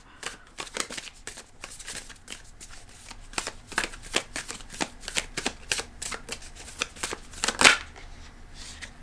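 Tarot cards being shuffled give a quiet, close run of papery riffles and soft slaps in an uneven rhythm, with no talking.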